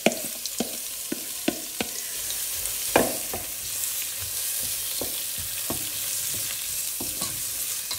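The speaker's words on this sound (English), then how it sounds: "So, I'm going to let those fry." Onions, peppers and garlic cloves frying in oil in a pan, a close, continuous sizzle broken by sharp clicks and scrapes from stirring at irregular moments.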